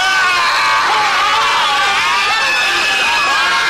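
An actor screams in the 1987 Italian action film Strike Commando, a loud, sustained, strained yell with shifting pitch that runs through the whole moment over other shouting voices.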